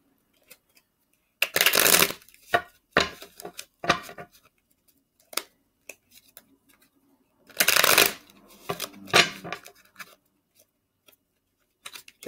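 A deck of tarot cards shuffled by hand in a quiet room, close up, in two longer riffling bursts with scattered short flicks and taps between them, no voices.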